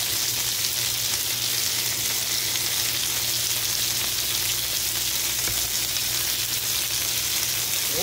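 Stuffed bacon cheese burgers sizzling steadily in a pan, a loud, continuous close frying crackle with no voices.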